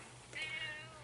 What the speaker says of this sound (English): Hi, Studio Cat.